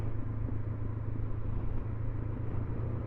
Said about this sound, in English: Nice bumble on the note off the exhaust